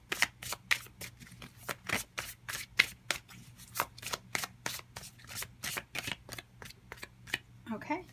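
Tarot cards shuffled and drawn from a deck, a long steady series of crisp riffling snaps at an even rhythm, close and fairly loud, ending with a short rustle.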